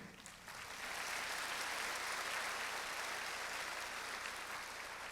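At a jazz concert in Changwon, the audience applauds a bassist, the clapping swelling after a quieter first half-second into a steady, dense wash from a crowd heard at a distance, continuing evenly to the end.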